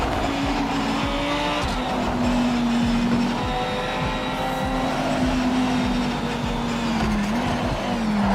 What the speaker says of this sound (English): trying to hit the brakes there, it breaks the traction